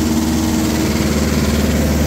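A Mahindra 575 XP Plus tractor engine runs in fourth low gear, a steady, close diesel rumble with even low throbbing and no break or voices.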